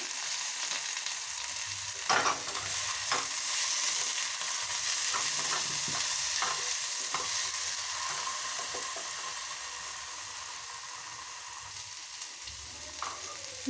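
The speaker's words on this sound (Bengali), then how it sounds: "অল্প তেল দিয়ে হালকা করে ভাজা করে নেব।" Vegetables (cauliflower, eggplant and potato) fry gently in a little oil, making a continuous close sizzle that runs throughout, with occasional scraping and clinking as they are stirred in the pan.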